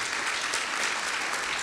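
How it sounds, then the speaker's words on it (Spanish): A panel-discussion audience on the Panamanian economy applauds the panelists, steady dense clapping filling the room throughout without a break. "yo quiero pedirles un gran aplauso a todos los panelistas"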